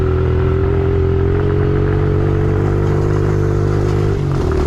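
A Honda CRF 110 mini motorbike riding downhill on a trail, a steady close engine drone with a constant hum and rattling clatter throughout, with no talking.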